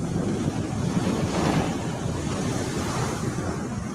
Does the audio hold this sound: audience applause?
no